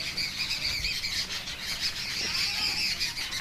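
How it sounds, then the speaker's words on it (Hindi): Birds chirp and squawk in a village at evening, a dense chorus of high calls at moderate distance over steady outdoor background noise. "जहां बिल्कुल शाम को मैं चिड़ियों की आवाज़"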